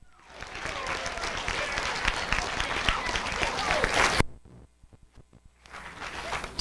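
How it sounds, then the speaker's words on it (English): A middle-school audience at a seventh-grade spelling bee breaks into loud, dense applause for about four seconds. It stops abruptly, leaving a few scattered claps and quiet room sound before clapping swells again. "let's give Mr. Whaley a round of applause, please."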